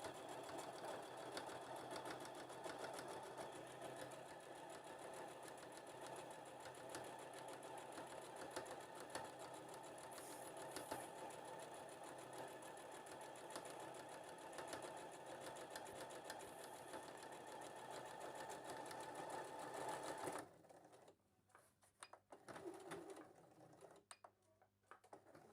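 A sewing machine stitches a gardening apron in a steady, fast mechanical whir that runs continuously for about twenty seconds, then stops, leaving a few faint clicks and handling sounds.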